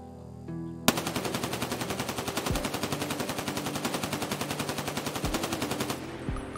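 A lower-recoil 5.56 SCAR rifle with a carrying handle fires in long full-auto bursts at a range in Escape from Tarkov, a rapid, loud, evenly spaced stream of shots with brief pauses between strings.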